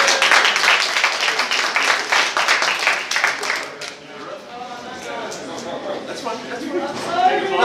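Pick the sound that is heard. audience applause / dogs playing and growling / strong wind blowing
audience applause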